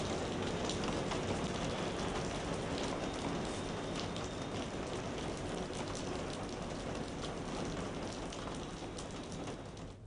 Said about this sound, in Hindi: पहाड़ पर बर्फ और दिल्ली एनसीआर में बारिश।